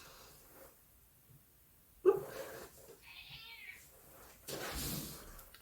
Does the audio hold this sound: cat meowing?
yes